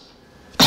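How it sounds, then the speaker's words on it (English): After a quiet, faintly humming pause, one person lets out a single sharp, loud cough right at the end. "I just wish I could stop coughing."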